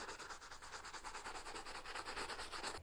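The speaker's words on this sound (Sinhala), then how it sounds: "පොලිෂ් කරනවා." A shoe being polished by hand with firm pressure, rapid rhythmic rubbing strokes repeating steadily throughout, close and fairly quiet.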